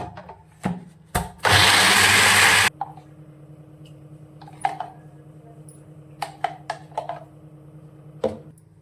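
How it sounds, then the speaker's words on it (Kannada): A mixer grinder blending soaked sago whirs loudly in one short burst of about a second and a half, followed by scattered clicks and knocks of the jar. "ಇವಾಗ ಇದನ್ನು ಮಿಕ್ಸಿ ಮಾಡ್ತೀನಿ"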